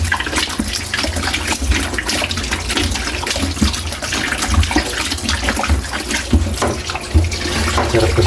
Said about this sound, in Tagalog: Kaili, hugasan muna natin yung pork natin.